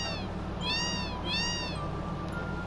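A cat in the video game Final Fantasy VII meows twice in a row, clear and fairly close, over a steady hum of background music.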